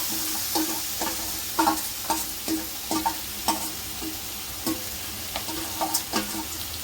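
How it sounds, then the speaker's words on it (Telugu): Slightly dry marinated chicken sizzles in a pan for chicken curry, a steady frying hiss punctuated by regular scraping stirs of a spatula, close and with no voices. "ఇప్పుడైతే నేను మ్యాగ్నేట్ చేసుకున్న చికెన్ వేసేస్తున్నా"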